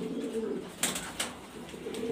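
Low cooing from grizzle racer pigeons rises at the start and end, broken in the middle by a couple of sharp taps or flutters, with no one speaking.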